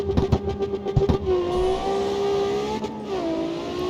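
Race car engine in the CarX Street racing game launching from a standstill, revving hard in short bursts before settling into a steady rising drone as it accelerates through the gears, loud and close with no talking.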